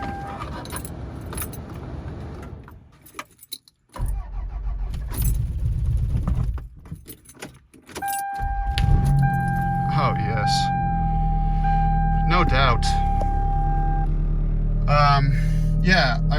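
A one-owner 1993 Toyota Camry with a manual gearbox and 320,000 miles cranks and catches in 10-degree Utah winter cold, then settles into a steady low idle with a whining tone, after keys jangle; someone speaks briefly.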